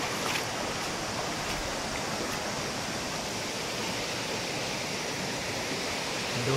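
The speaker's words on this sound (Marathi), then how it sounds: "आणि हा धबधबा आपला पाहू शकतो इथं मागे." Steady, full rushing roar of the waterfall at Marleshwar temple in the Konkan hills, continuous and unbroken with no voices.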